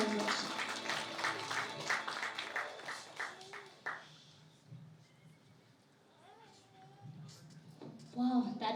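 Audience applause at the Miss Universe Meghalaya launch event at Vivanta in Shillong, a burst of moderate clapping from a crowd that fades after a few seconds into quieter room sound and speech.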